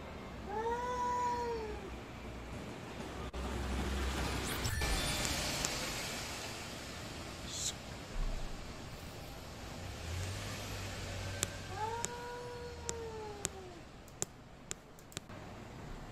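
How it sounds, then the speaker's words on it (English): A cat lets out two drawn-out, wavering meows, one at the start and one near the end, with low background noise and a scatter of sharp clicks between them. "Oh god, it's a cat."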